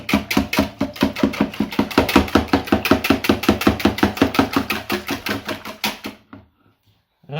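Eggs are beaten by hand for a salmon cake batter, producing fast, even, sharp clacks of a utensil against the bowl, close and steady for about six seconds before stopping.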